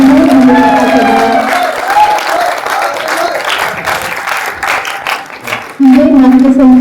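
Audience applause after a stage play fills the room loudly, with a steady wash of clapping and crowd noise, while a voice speaks at the start and end.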